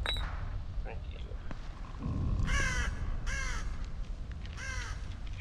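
Crows caw in The Evil Within 2 video game, with several harsh caws in a ragged series over a low rumbling ambience, mixed with someone talking.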